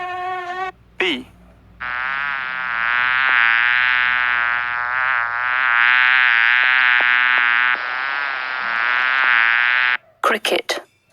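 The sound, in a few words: bee buzzing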